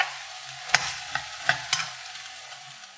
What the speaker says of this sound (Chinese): 而家喺度炒緊嗰個牛肉嘅時候